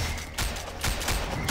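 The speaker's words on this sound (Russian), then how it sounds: "Давай, ребята, строчим, как из пулеметов." Machine gun fire in the zombie shooter SWAT and Zombies 2 comes as rapid, loud bursts of overlapping shots, close and harsh, filling the whole stretch with brief gaps between volleys.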